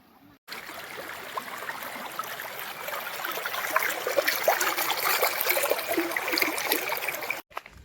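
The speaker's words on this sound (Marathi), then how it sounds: "मस्त एक नंबर झुळझुळ पाणी वाहत आहे" A stream flows beside a bridge on the trail to Rajmachi fort in the Sahyadri hills after light rain, giving a steady, close rushing wash of water that runs alone for several seconds.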